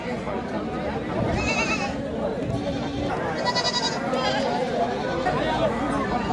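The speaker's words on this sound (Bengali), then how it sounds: "দেখি আপনার বাড়ির ছাগল?" Goats bleat several times amid a busy crowd at a livestock market, with steady chatter and murmuring voices around them throughout.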